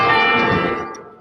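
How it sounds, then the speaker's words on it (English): Church bells ring outside St. Patrick's Cathedral in New York City in honor of Pope Francis, a dense, sustained wash of overlapping bell tones that starts loud and slowly decays. "Those are the bells."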